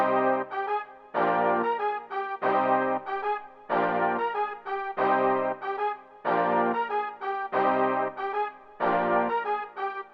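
Layered Session Strings violins and Roland SRX World wide brass playing a repeating orchestral melody, sustained bowed and brassy chords in regular phrases with brief gaps between them, clean and upfront with no voices.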